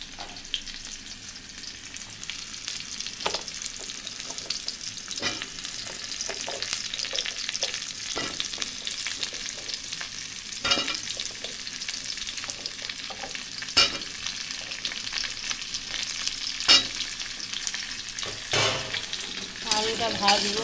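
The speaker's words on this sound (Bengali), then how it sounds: "আলুটা ভাজবো।" Potatoes frying in a wok give a steady, moderately quiet sizzle for about twenty seconds, with regular spatula taps and scrapes from stirring.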